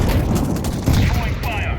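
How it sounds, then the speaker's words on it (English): Gunfire and a grenade burst blend into a dense, continuous crackle of shots and booms in a Counter-Strike-style shooter match. "Grenade out."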